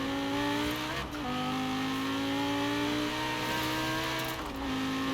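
A Lamborghini Huracan Performante in Forza Horizon 4 drives with a loud, steady engine drone that rises and falls as it shifts through gears, with two brief dips where the revs drop and climb again.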